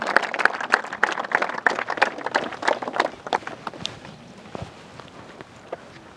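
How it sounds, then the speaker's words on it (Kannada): A crowd applauds students who scored high marks in their second-year pre-university exams. The clapping is dense and steady, then thins out toward the end, with no one talking over it. "ಜೋರಾಗಿ ಚಪ್ಪಾಳೆ ಕೊಡ್ರ"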